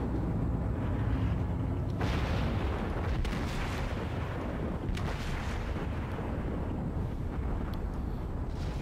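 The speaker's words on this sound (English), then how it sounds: "Come on, hit him, main guns." Heavy naval gunfire from a Fuso-class battleship's main guns in World of Warships, a dense rumbling barrage of deep booms and blasts running continuously and loud throughout, with no talk over it.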